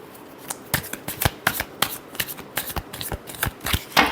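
Tarot cards being shuffled by hand, a series of crisp riffling and tapping bursts at an irregular rhythm, close and moderately loud.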